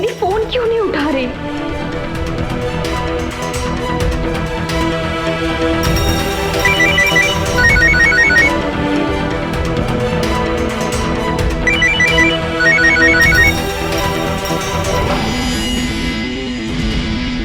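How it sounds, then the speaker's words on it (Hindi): A repeating electronic ringtone chimes through a dense musical background, recurring in two bursts midway through. "इसका फोन बज रहा है यार"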